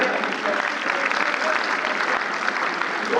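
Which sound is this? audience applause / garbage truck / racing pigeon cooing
audience applause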